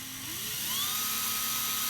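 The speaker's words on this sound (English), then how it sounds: "We're going to go ahead and hook this drill up and see if I can get out this" A power drill bores out the fixed-magazine plug of an AR rifle, a steady whining motor whose pitch rises as it spins up, loud and close, running continuously with no talking.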